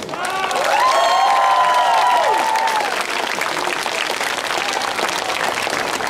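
A festival gala-concert audience in Mariupol applauds the artists, dense sustained clapping filling the hall, with a sung or whistled tone rising over it at the start before the ovation continues alone.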